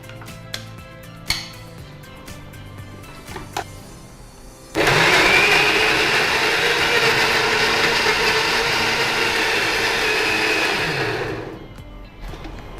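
A kitchen mixer grinder blending coriander and mint masala for chicken biryani whirs loudly and steadily for about seven seconds, then spins down, with quieter kitchen clatter before it.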